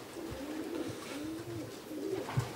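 Racing pigeons coo at a loft during a race arrival, soft rolling coos repeating close by over faint outdoor background.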